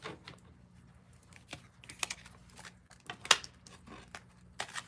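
Tarot cards being shuffled, a run of crisp riffling flicks and sharp taps in irregular bursts, close and fairly quiet with no talking.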